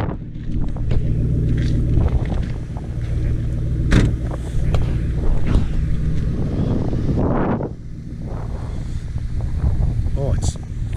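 2007 Pontiac Grand Prix GXP engine idling outside in the cold, a steady low rumble throughout with wind noise buffeting the microphone and a voice talking over it.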